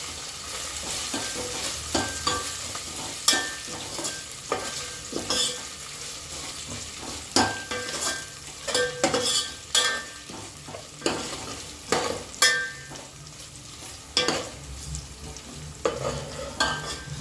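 Ginger paste frying and being stirred in a pan while making chicken pulao, a steady close sizzle broken by repeated sharp scrapes and clinks of a spoon against the pan, with no talking.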